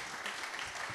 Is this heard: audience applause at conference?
yes